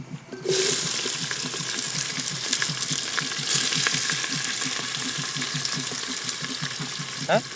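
Chili and onion frying on a campfire during windy, rainy camping, giving a steady close sizzle with clicking crackles that runs unbroken for the whole stretch.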